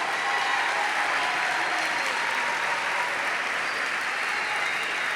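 Audience applause at a live talk event, a steady, dense wash of clapping that holds at an even level for several seconds with no voices over it.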